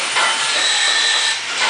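A portable grinder grinds excess weld off a fabricated piece, a loud, continuous, harsh hiss with a steady high whine that dips slightly near the end.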